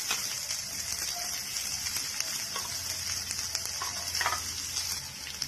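Onion and green chilies frying in hot oil with cumin seeds on a gas stove give a steady, close, hissing sizzle that runs throughout, with faint crackles and small pops and no talking.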